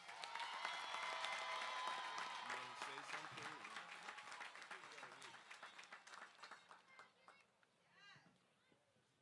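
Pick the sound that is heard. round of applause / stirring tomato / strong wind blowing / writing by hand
round of applause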